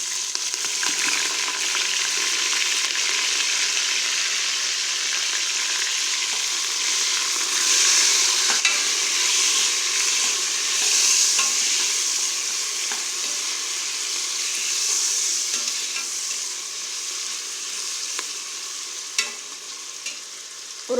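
Onion, tomato, curry leaves, coriander stems and mint sauté for a vegetable biryani, giving a loud, continuous sizzle with occasional faint stirring scrapes and no talk.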